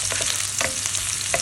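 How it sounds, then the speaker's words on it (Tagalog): Onions sizzle steadily in a hot pan with garlic, a close, constant frying hiss broken by a few soft clicks of stirring. "Lagay na rin natin ang sibuyas."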